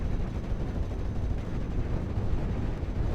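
Dense, continuous rumble of gunfire and explosions from a strafing run against a King Tiger tank in a World War II strategy game, a loud, steady barrage of bursts with no pauses and no talk.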